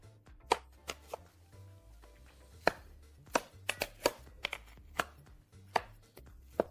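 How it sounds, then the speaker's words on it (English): A knife cuts an Egyptian green herb omelette into squares on a board, giving a series of sharp, irregular chopping taps up close over quiet background. "cut a piece of this frittata that smells amazing"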